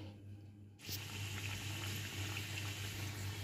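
Moong dal kachori frying in oil on a low flame: a brief quiet moment, then a steady, even sizzle and bubbling that starts abruptly and continues close by.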